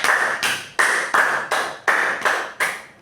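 A class of students claps in unison for a classmate during an Epie language lesson, about eight sharp, evenly spaced rhythmic bursts over three seconds, fairly loud and close, with no talking.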